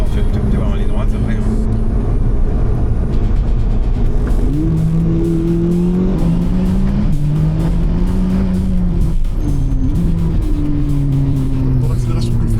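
A Corvette C8 sports car accelerates hard. Its engine note climbs in pitch through several gear pulls, with short dips between them, close and loud, while voices are heard at times.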